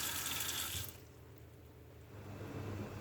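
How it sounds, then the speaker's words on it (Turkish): Tap water runs hard into a cooking pot for stuffed grape leaves, with a bright rushing sound that suddenly drops to a quieter, lower gurgle as the vessel fills. "Tenceremize suyumuzu doldurduk."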